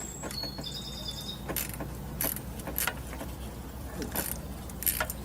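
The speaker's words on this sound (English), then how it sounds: "This one is ratchet and wrench" A ratchet and wrench work an 8mm bolt on a Ford 5.4 3V engine, giving quiet intermittent clicks and metallic clinks with brief bursts of ratcheting, close by in a quiet shop.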